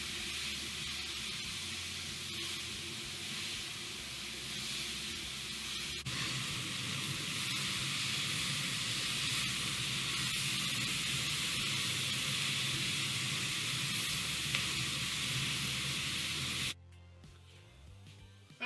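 Beyond Meat sausage, peppers and garlic sizzle steadily in a hot pan, a dense continuous hiss that swells as the pan is tossed, then drops away sharply near the end.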